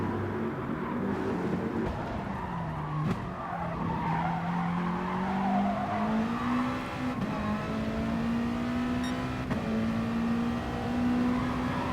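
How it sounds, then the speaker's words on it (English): Car tires screeching in the Gran Turismo Sport racing game, a long sustained squeal that bends in pitch through a corner over a steady revving race engine, fairly loud and with no talk. "you can hear my tires screeching a lot, meaning I was overworking them a lot"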